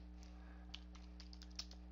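A computer keyboard being typed on during a WordPress blog edit: a few soft, scattered keystrokes close by, quiet beneath a steady electrical hum.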